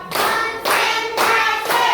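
Students at SDN Gelombang Timur 2 elementary school clap in a group, four loud, sharp bursts in steady rhythm, each a dense cluster of many hands striking together in a classroom.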